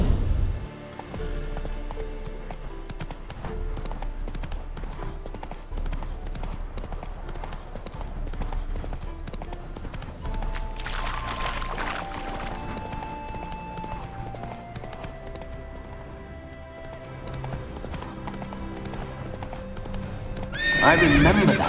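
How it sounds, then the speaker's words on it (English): Geralt's horse Roach in The Witcher 3 whinnies and clip-clops, hooves beating steadily through the first half, then a fresh neigh near the end, all under a game music bed. "Spooking my horse."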